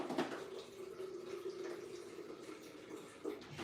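Water poured steadily into a pot, two cups measured out for a plant-based dinner; a continuous mid-level splashing stream lasting several seconds, fairly close, with a brief louder gush near the end and no talking.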